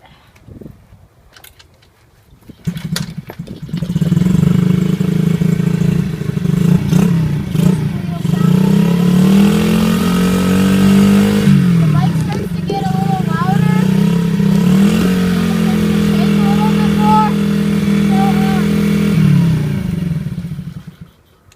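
A Coolster 70cc dirt bike engine idles roughly, then revs up and down repeatedly, loud and close, the pitch rising with each throttle twist.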